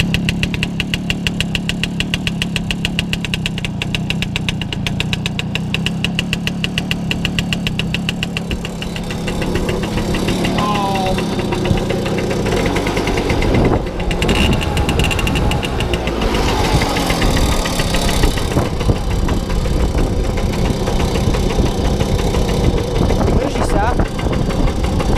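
The engine of a Pioneer 220 sewer-cleaning machine idles steadily and close by, with a regular knocking throb. A voice talks over the engine in the second half.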